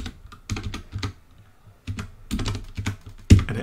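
Typing a command on a computer keyboard while setting up a self-signed certificate, heard as bursts of close, crisp key clicks separated by pauses, ending with one louder keystroke.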